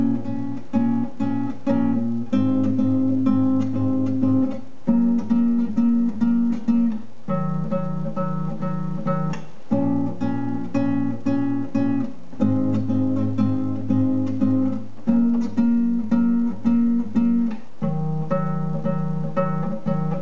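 Strummed guitar chords of a song, played as a steady repeating progression with rhythmic strums and regular chord changes, loud and close with no voice.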